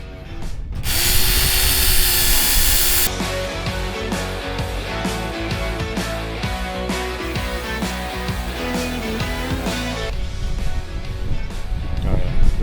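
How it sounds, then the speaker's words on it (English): A power grinder working a chip out of an axe edge, a steady loud whine with rhythmic scraping contact of metal on the edge, close and continuous for the whole stretch. "it does have a little chip in there and I want to grind that out"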